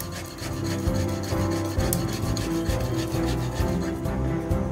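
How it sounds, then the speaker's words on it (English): A potato is grated by hand on a grater, making steady rhythmic rasping strokes, close and fairly soft, continuing without pause and with no talk. "So grating the potato using a grater, and you can see how thinly and finely it is getting grated"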